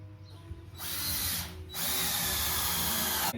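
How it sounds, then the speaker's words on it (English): A power drill drives 3-inch construction screws into the floor plate of a greenhouse shed, with two close, loud whirring bursts, a short one and then a longer one, separated by a brief pause. "Finish screwing that floor plate."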